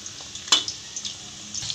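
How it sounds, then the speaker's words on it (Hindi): Chicken pieces fry in a pan for chilli chicken, a soft steady sizzle broken by a few sharp scrapes and clinks as they are turned and stirred, close and quiet. "अब इसे हम इसकी साइड को चेंज करेंगे और इसे हम अच्छे से स्टर करेंगे ताकि जो चिकन है वो हमारी अच्छे से कुक हो जाए"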